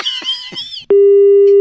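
A short burst of voices and clicks, then a steady, loud electronic disconnect tone after a phone call is hung up, holding without a break until the end.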